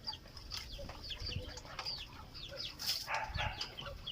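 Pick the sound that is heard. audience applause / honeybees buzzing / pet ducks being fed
pet ducks being fed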